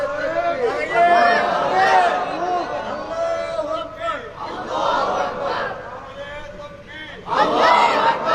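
An audience at a Bengali religious sermon chants the takbir loudly in unison, with several rhythmic call-and-response bursts of massed voices separated by brief lulls.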